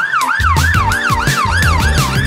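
A fire truck siren from a children's Tayo song wails loud and close in rapid rising-and-falling sweeps, repeating over a pounding musical beat.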